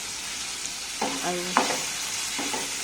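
Cherry tomatoes fry with pennywort greens in a pan, a steady sizzle running underneath as a utensil stirs and scrapes a few times; someone speaks briefly over the cooking.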